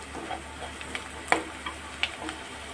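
Chopped onion sautéing in a pan for a soybean and egg curry, a soft steady sizzle with a few light clicks of a spoon stirring against the pan, close and quiet, no voices.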